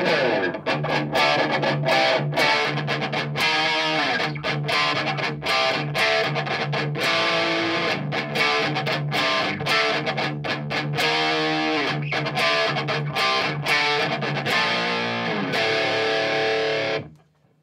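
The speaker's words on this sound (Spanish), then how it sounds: "voy a cambiar al canal de distorsión. En el canal de distorsión tengo la ganancia prácticamente al máximo" Electric guitar played through an amplifier's distortion channel with the gain near maximum, a dense, saturated tone sustaining loudly and steadily for most of the passage before cutting off abruptly at the end.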